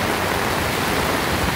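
Floodwater rushing down a flooded street beside a river close to overflowing, a steady loud broadband roar of churning water with no break, heard alone.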